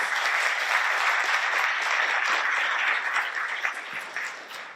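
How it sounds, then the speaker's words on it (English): An audience applauds with steady, dense clapping throughout, moderately loud and sustained before tapering slightly at the end. "Let's welcome him with some applause."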